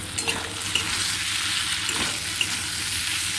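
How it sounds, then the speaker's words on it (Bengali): Spices being stirred into kundru (ivy gourd) vegetables in a hot pan, a bright steady sizzle with scraping spatula strokes and light taps, close and fairly loud. "এবারে মশলাগুলো সবজির সঙ্গে নেড়ে চেড়ে"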